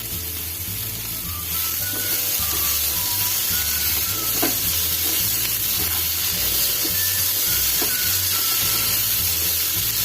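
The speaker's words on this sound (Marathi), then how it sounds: "हे सगळं मिश्रण ब्राऊन होईपर्यंत थोडं परतून घ्यायचं।" Tomato masala mixture with salt sautéing and being stirred in a pan, a steady broadband sizzle running throughout with occasional faint clinks of the spatula, continuous and fairly loud.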